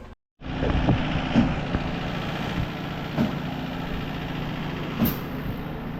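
Concrete pump truck engine running at 1700 RPM on a pour site, a loud steady diesel drone with a faint rhythmic knock, starting abruptly after a brief silence and holding throughout.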